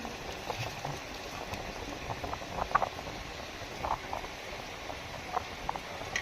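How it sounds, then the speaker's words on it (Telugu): Wet squelching and soft splashing as hands squeeze tomatoes into cooled tempering for tomato rasam, a quiet, irregular patter of small squishes, close by. "బాగా పిసుకండి రసం వచ్చేదాకా"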